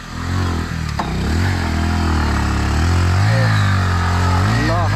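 A motorcycle engine rumbles and revs close by as the bike is brought along a muddy road near Nepal's Susta Bridge, with a steady low drone that rises and dips in pitch throughout.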